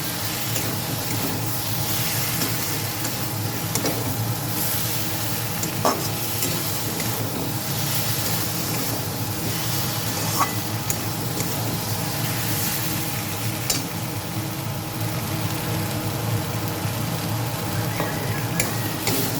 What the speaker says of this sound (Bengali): এখন আমি আলু বেগুনটা দিয়ে দেবো। দিয়ে একটু নাড়াচাড়া করে জল দিয়ে দেবো।